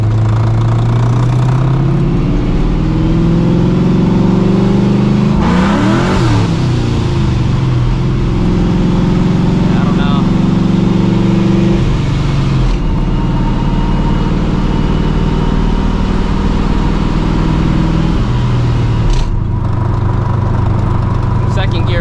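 A 600-horsepower 2V Mustang GT engine roars loud and close through hard acceleration, pitch sweeping up and dropping between pulls as the wheels spin, with rough rumbling and brief bursts.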